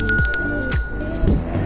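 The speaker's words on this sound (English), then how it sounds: "don't forget to ring that bell" A bell ring sound effect in a Purdue student channel trailer: a bright, ringing metallic chime with sustained overtones, mixed with quick descending swooshes, loud and close.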